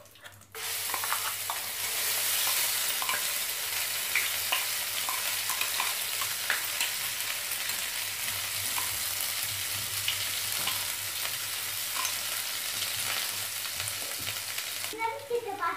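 Ground masala paste hitting hot oil in a kadai sets off a strong, continuous sizzle that lasts throughout, broken by faint spoon scrapes and small pops, with no talking.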